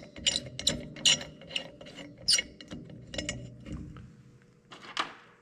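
A ratchet spinning a nut and lock washer onto a bolt on a Case 490 disk wing, with close, quick clicking bursts and short pauses between pulls.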